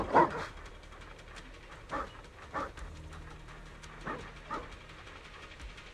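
Dog barking in the Zenless Zone Zero video game, several short yelps and barks spaced out over a low rumbling background with no talking.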